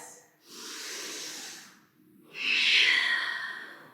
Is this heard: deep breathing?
yes